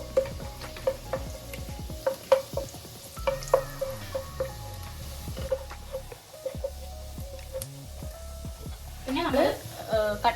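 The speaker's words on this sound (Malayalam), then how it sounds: "അപ്പോൾ അതങ്ങനെ വഴറ്റിയെടുക്കാം കേട്ടോ." Garlic sautéing in oil and butter in a pan, a soft sizzle under a run of quick spatula scrapes and taps, with a louder clatter near the end and someone talking over it.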